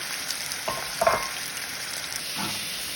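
A tortilla fries in a hot pan with a steady, fairly quiet sizzle, broken by a few brief clinks and scrapes as it is handled.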